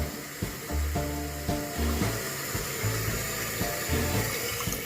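Toilet tank refilling through its fill valve after a flush, water hissing and gurgling steadily at close range, with a pulsing, uneven low rumble running beneath.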